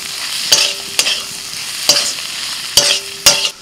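Fried okra and egg being stirred in a pan, with a soft sizzle under five sharp scrapes of a spatula spaced at uneven intervals, close and loud, with no speech.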